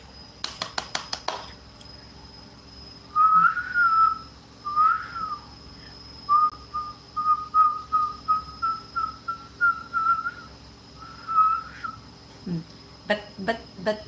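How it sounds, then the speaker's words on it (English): A person whistles a short run of clear, bright notes, held and wavering, after a brief burst of clatter. Faint background noise sits underneath and a few clicks return at the end. "See? See? I can still whistle."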